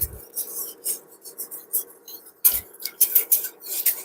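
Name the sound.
stirring bearnaise sauce in a pan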